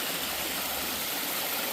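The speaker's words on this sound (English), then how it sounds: "it had some hidden waterfalls on it" A small hidden waterfall along the Red Cedar State Trail pours in a steady, close broadband rush with no breaks and no voices.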